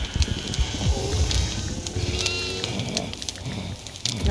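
A goat in the horror video game Devour, on the farmhouse level, bleats repeatedly and close up over rough in-game ambience.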